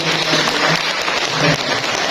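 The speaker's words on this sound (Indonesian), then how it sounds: "Kasih tepuk tangan dulu dong." An audience at a village hall community event applauds in a dense, even patter of clapping that stays fairly loud throughout and sounds almost like rain, with faint voices mixed in.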